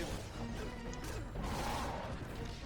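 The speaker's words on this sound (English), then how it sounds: "See if we can shatter this dude." A frozen enemy shattering in the Marvel Ultimate Alliance video game, a sharp icy crash with brittle fragments and a short swoosh, over faint game background noise.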